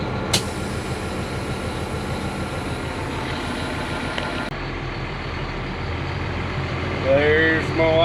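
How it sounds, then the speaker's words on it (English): A loaded wheat truck rumbles steadily up close while it drives toward town after harvest, with a low engine drone and road noise throughout and a brief louder swell near the end. "Truck's ready to go. I'll head to town."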